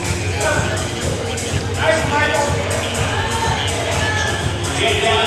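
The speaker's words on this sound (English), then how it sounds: "I'm hearing some cheers of nice Michael" A crowd of spectators at a fitness competition, the Invictus Boston Invitational Masters men's heat, cheering and shouting in dense overlapping bursts, loud and close, with general hubbub throughout.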